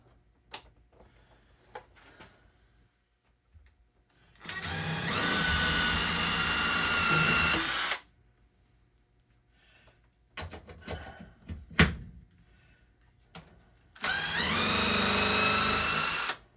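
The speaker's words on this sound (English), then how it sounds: "we'll drill a hole in the bottom, we'll put a screw in the bottom" A power drill whirs in two sustained bursts of several seconds each, drilling screw holes while mounting a can crusher, with clicks and handling noises in the quiet gaps between.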